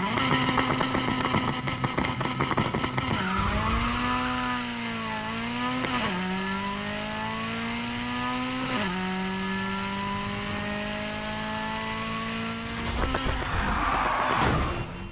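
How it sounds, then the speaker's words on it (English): A Honda Civic in the NFS Heat racing game is held at full rev for a drag launch, the engine note a steady high drone that shifts pitch in stepped jumps and then swells again near the end. "I'm going to show you actually the Honda Civic in 4th gear, 1 gear full rev without it bouncing."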